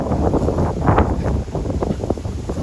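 Gusty autumn wind buffeting the microphone with a rough, rumbling roar that swells and eases over a couple of seconds.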